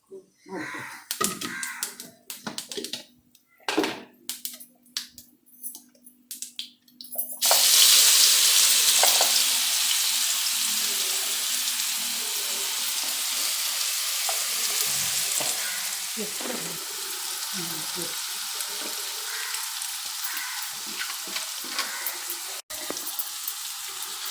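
Chili powder frying in oil for a village-style egg pickle, starting with people talking and clattering, then a loud, steady sizzling hiss that carries on to the end.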